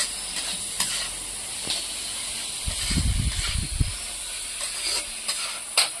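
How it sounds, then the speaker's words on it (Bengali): Onions frying in hot oil with a little salt and turmeric added. A steady sizzle with stirring scrapes runs throughout, and a louder low rumble of handling comes in the middle, with no talking. "দিয়ে আমি ভালো করে লাল লাল করে পেঁয়াজটা ভেজে নেব।"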